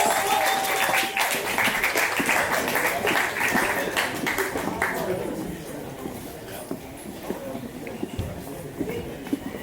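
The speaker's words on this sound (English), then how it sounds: "Give a round of applause." Audience applause fills a ceremony hall at the Dutch kiki scene OTY awards night in 2024, dense clapping loud for the first five seconds, then thinning and fading as scattered claps and crowd murmur linger.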